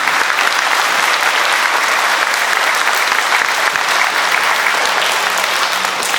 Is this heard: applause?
yes